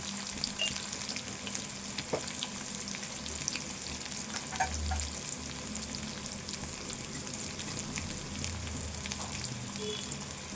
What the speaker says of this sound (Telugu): ఇవన్నీ కూడా వేపుకోవాలి.